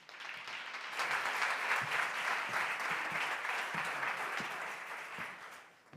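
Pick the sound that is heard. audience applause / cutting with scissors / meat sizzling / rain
audience applause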